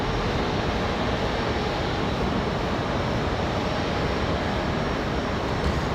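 A United airliner takes off from runway 23 right at Raleigh-Durham airport on a windy day. Its engines give a loud, steady, broadband roar that fills the whole stretch without letup.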